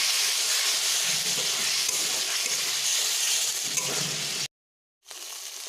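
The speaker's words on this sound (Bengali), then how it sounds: "মশলা কষানোর জন্য আমি এখানে একটু জল দিয়ে দিচ্ছি, যাতে করে মশলাটা" Water poured into spice paste frying in a pan for a country chicken curry gives a loud, steady sizzle and steamy hiss. The sound cuts to a brief silence near the end, then the hiss resumes.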